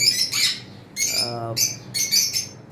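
A pair of cockatiels kept at a bird shop gives loud, shrill squawks and chirps in several short bursts, close by, with a brief low human voice between calls.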